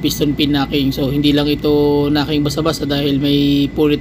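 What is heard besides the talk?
None of the usual background noises is heard.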